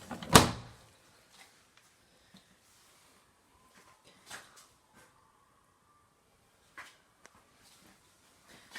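A kitchen drawer is opened and closed in a quiet room: one sharp bang near the start, followed by scattered soft knocks and clicks with long silences between them.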